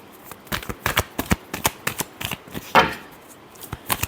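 Tarot cards being shuffled by hand in a quiet room, a rapid series of crisp riffling slaps and flutters, close and clear, with one longer swish near the end.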